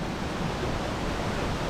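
A waterfall near a village in Maharashtra, a dense, steady roar of falling water heard close up, loud and unbroken, with no voices.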